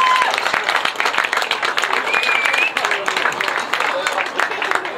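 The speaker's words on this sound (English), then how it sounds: "Come on, lads, give them a round of applause." Spectators clap at a football cup final, a dense, steady round of applause from a modest crowd close by, with a voice speaking over part of it.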